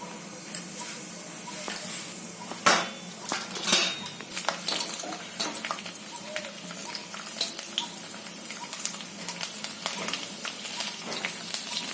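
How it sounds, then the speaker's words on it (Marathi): Mustard seeds going into hot oil in a pan while cooking a spicy capsicum dish: continuous crackling sizzle with clinks of a metal spoon and pot, close and moderately loud, no talking. "आता मी मोहरी घालते"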